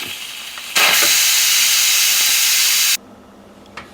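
A loud, sharp hiss of steam bursts out, holds steady for about two seconds, then cuts off abruptly, leaving quiet room noise.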